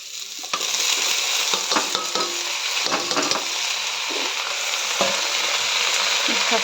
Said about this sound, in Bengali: এইবার শাকটা দিয়ে দেবো।